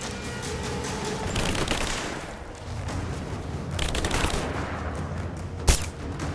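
Sustained bursts of gunfire fill a fight in the video game Rise of the Tomb Raider on hard mode, with rapid crackling volleys, a louder sharp shot near the end, and continuous battle noise throughout.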